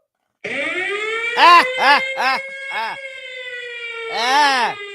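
A siren wail holds steady and rising for several seconds, while a voice imitates it with a series of sweeping siren-like whoops layered on top.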